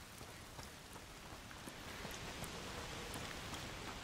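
Steady rain falls continuously in the video game A Plague Tale: Requiem, a dense even hiss with scattered droplet taps, no voices.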